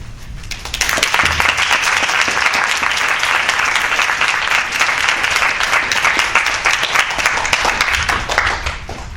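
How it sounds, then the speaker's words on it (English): Sustained applause from the audience at a Gainesville, Florida city commission special meeting, beginning abruptly after a brief pause and holding as a dense, loud wash of many clapping hands for about eight seconds before easing slightly at the end. "Give one more round of applause for"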